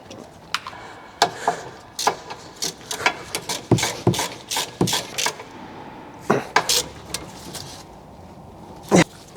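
Sharp metallic clicks of a ratchet tightening a brake hose fitting on a BMW E38, heard up close in irregular bursts of quick ticks with short pauses between them.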